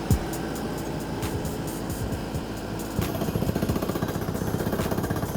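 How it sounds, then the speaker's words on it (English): An air-driven hammer on a water well drilling rig pounds down into the ground in a steady, loud, rapid rattle with a droning air compressor, getting louder partway through. "That sound you're hearing is the hammer drilling into the ground."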